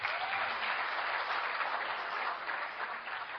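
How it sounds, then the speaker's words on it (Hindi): Audience applause at an Amway business talk, a steady burst of many hands clapping at full strength that eases slightly toward the end, with no talking over it. "बजाओ ताली इन लोग के लिए।"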